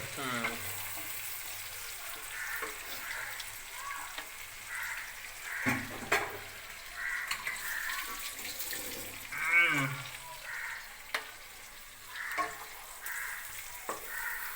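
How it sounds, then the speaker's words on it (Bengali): Tomatoes fry in a pan while crab is being cooked, giving a soft continuous sizzle with scattered scraping and stirring noises, fairly quiet and close throughout. "টমেটোগুলো দেওয়া হলো এর মধ্যে। এটা হালকা হালকা ভাজা ভাজা হয়ে গেলে আসল মশলাটা যাবে"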